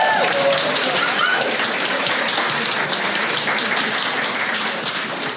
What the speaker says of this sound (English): Is there not a round of applause for that?